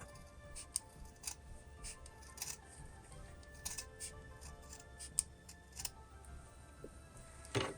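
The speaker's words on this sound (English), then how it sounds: "So I'm gonna go and trim a little bit." Scissors trim a handmade gift item with quiet, scattered snips and small clicks, sporadic and close against a faint room hum.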